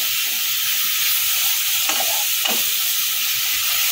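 Tamarind water hitting hot oil and spices in a pan as sambar dal is cooked: a steady, bright, close sizzle and hiss that runs throughout, with a couple of brief stirring scrapes.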